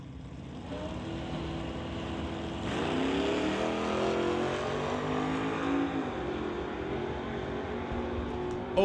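Two drag racers, an Old School Cutlass and an SS Motorsports S10, roar down the strip at an NHRA Summit ET race, engines rising and falling loudly in pitch as they pass, with no talk.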